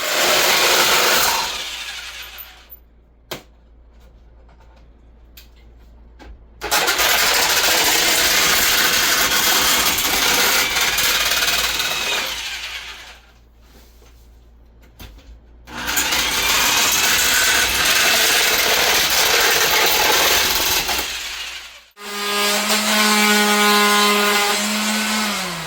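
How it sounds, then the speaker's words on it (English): Power sanding of wood during a kitchen update, three long loud bursts of steady abrasive whirring broken by short quiet pauses, ending with a tonal machine whine. "so he's gonna sand"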